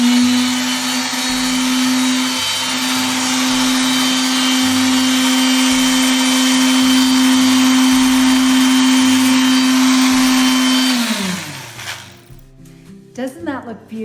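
A power tool sands and distresses the raised edges of a piece of wooden furniture being made over in shabby chic style, a loud steady motor whine running continuously for about eleven seconds before spinning down, with faint handling noises after.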